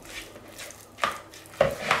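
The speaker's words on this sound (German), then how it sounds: "einfach unterhebe ich es mit dem Löffel" Beaten egg white is folded into cake batter with a spoon in a bowl, with soft scraping strokes and a few sharper clinks of the spoon against the bowl, close and alone.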